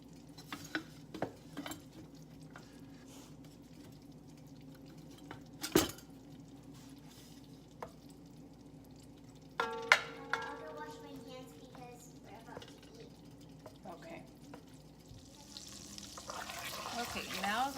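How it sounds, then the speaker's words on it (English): Butter sizzles in a pan before chicken is added, with a soft crackle beneath scattered clinks of utensils and cookware, growing hissier toward the end. "now that my butter's sizzling"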